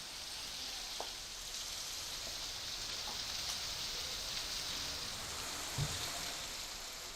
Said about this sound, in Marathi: दुपारी 4 वाजता मात्र दमदार पाऊस झाला